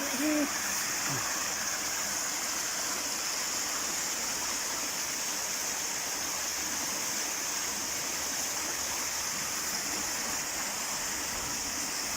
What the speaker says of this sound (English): I can hear water.